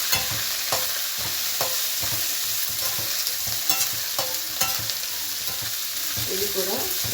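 Onions frying in oil for rice flour upma, with a continuous near sizzle and repeated spoon scrapes and clinks against the pan as they are stirred, no voices.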